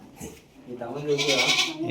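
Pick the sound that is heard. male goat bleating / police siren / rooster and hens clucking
male goat bleating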